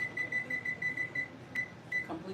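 A kitchen timer beeps in a quick, even series of high, thin tones, moderately close and repeating over a steady background hum, with a short pause near the end.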